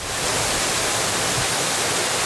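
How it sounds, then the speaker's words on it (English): A waterfall in a Japanese garden of rock and water features, heard as a steady, dense broadband rush of falling water that holds constant and fairly loud throughout, with no voices. "you'll experience some of our waterfalls as you experience the gardens"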